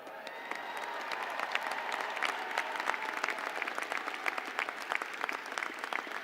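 Steady applause from a large crowd fills a hall at a university fall commencement ceremony, many hands clapping continuously at moderate volume without any voices over it.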